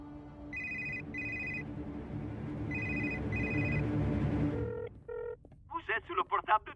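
A mobile phone rings in two paired bursts of electronic tone, heard over steady background noise and voices, followed by a few short beeps.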